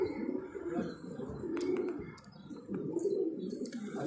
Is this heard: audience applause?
no